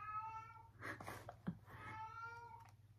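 A cat meows close by indoors, giving two drawn-out, plaintive cries separated by a short pause. A faint low hum runs underneath, with no talking.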